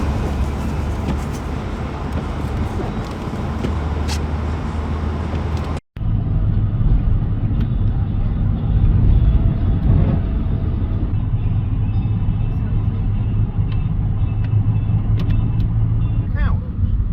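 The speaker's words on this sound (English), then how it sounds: "Scaffolding truck's turning up now." A scaffolding truck arrives beside a collapsing canal towpath after a breach, its engine a deep, steady rumble close by that continues after a brief break in the sound.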